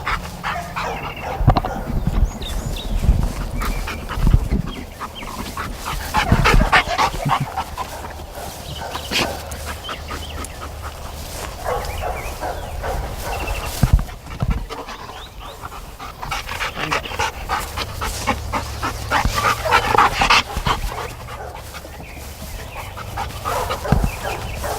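A drug detection dog works close by, panting steadily with sniffs, a few whimpers and yips through a busy search, while handling noises and movement sound underneath.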